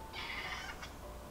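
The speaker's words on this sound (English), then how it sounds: "there's my meowing cat again" A house cat meows indoors in one drawn-out, fairly loud cry followed by a short second chirp, with quiet room hum behind it.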